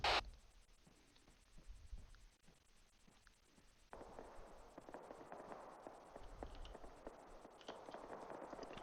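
Gunfire in an Arma team-versus-team battle, distant crackling pops and sporadic shots that thicken into a dense rattling spread in the second half, faint and far off.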